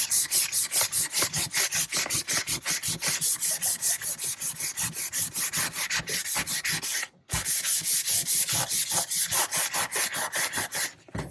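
Rust being sanded off the blade of a vintage Disston hand saw: rapid, even back-and-forth scratchy strokes, close and loud, continuing steadily with one brief pause partway through.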